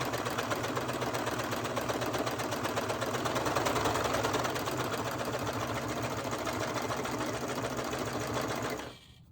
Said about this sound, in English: So I put it underneath and then I'll sew.